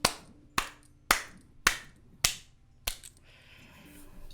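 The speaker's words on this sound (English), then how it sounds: "You just hear a clap." Six crisp, solo hand claps ring out slowly and evenly in an otherwise quiet space, each one sharp and close, fading slightly toward the end.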